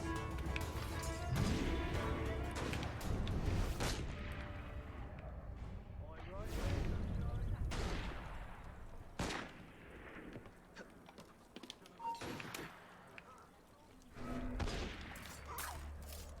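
Gunfire in the video game Assassin's Creed Unity crackles in bursts amid crashes and hoofbeats, with someone talking loudly over much of the action.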